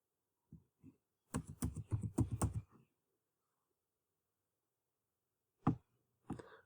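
Bursts of typing on a computer keyboard while entering text into a LinkedIn business page form: a short pair of taps, a dense flurry of keystrokes, then a long quiet gap and a few more isolated clicks near the end.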